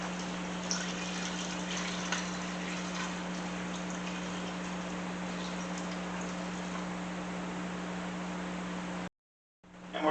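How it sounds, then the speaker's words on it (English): Water poured into a pot of boiled chicken to cover it, a continuous rushing, filling wash over a steady low hum, running several seconds before a brief cutout. "And then we're going to add some more water."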